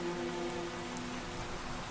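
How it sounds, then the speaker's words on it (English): Light rain in a Minecraft game world around a castle and mountains: a soft, even patter of falling drops with a faint steady tone underneath, constant and moderately quiet. "A light rain and mist covers Castle Liberium and the mountains of Remtol."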